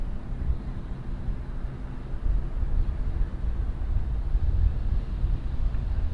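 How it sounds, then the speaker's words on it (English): A boat with twin diesel engines passes by, a low rumbling drone that swells gradually and stays fairly distant, mixed with some wind noise. "Listen to those twin diesels."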